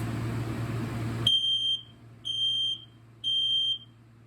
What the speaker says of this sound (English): now let's press the test button to see if it goes off